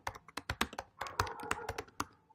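Fingers type a command on a computer keyboard in a MySQL session, a quick irregular run of close, crisp key clicks lasting a couple of seconds with no talking.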